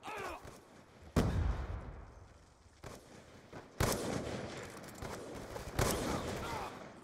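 Heavy gunfire from a multiplayer shooter, several loud broadband blasts about every second or two with rumbling tails, mixed with game noise.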